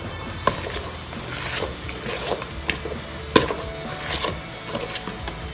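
Homemade Play-doh mixture stirred in a bowl, giving soft scraping and knocking with a few sharper clacks of the utensil against the sides, close and steady over several seconds with no talking.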